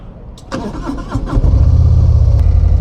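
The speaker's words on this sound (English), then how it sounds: "Let's do a cold start." A brand-new 2025 Harley-Davidson Fat Boy motorcycle cold-started up close: a brief starter crank, then the engine catches and settles into a loud, deep, pulsing idle.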